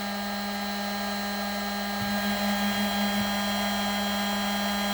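Homemade CNC machine spindle running at 12,000 RPM while milling its first PCB: a steady, loud high-pitched whine with a constant hum, plus a couple of faint bumps as the cut begins.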